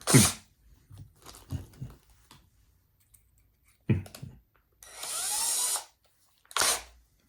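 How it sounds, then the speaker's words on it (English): A power drill whirs in one short burst during a Kenmore sewing machine repair, with clicks, knocks and handling noises before it and a brief clatter after. "we're gonna get my drill and the right bit here, and we're gonna fix it."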